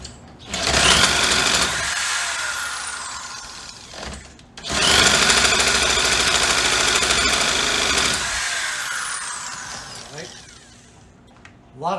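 A Poulan 2150 chainsaw, choked, sputters into two long bursts of loud, raspy two-stroke engine running, separated by a brief drop-off, then idles down near the end.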